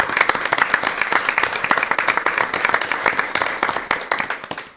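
An audience at a school committee meeting in Plainville claps for a retiring teacher, a dense, steady burst of applause that holds strongly throughout and tapers slightly at the end.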